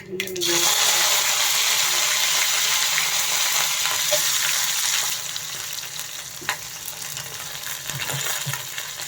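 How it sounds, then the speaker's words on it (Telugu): Tempering seeds crackle and sizzle in hot oil for an Andhra-style fenugreek-leaf and gram-flour curry, a loud, steady hiss that eases to a softer sizzle partway through, with a few small metallic clinks. "సో ఆల్రెడీ నూనె వేడెక్కిపోయిందండి. పోపు గింజలు వేసేసుకొని ఇంకా మన ప్రాసెస్లోకి వెళ్ళిపోదాం."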